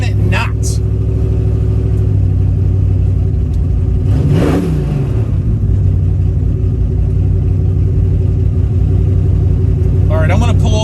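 A 1970 Chevrolet Chevelle's engine rumbles loudly and steadily from inside the car while driving, a deep continuous drone with a brief swelling sweep midway.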